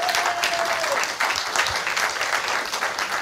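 A church congregation at a Good Friday Easter service applauds a guest with steady, full clapping from a crowd, heard close and continuous throughout.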